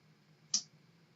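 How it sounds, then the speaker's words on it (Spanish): A single crisp right-click of a computer mouse, close and quiet, standing out once against near silence. "si le damos clic con el botón derecho"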